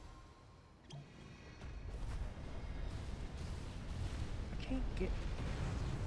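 Bombs burst repeatedly during a boss fight in the Operation: Floodgate dungeon, a dense rumbling wash of blasts that builds and stays loud, with a player talking over it.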